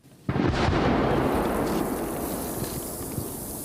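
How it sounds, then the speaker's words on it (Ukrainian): Wartime explosion in a forest, a sudden heavy boom followed by a long rolling rumble echoing between the trees, loud and sustained with no speech. "Звуки вибухів між деревами беруться ехом"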